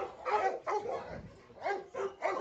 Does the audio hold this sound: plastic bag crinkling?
no